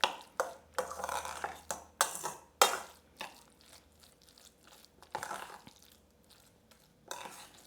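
A spoon works through rice mixed with saffron and yogurt in a pot, producing a series of close, wet scraping and clinking strokes, busy at first and then thinning out into quieter stirring.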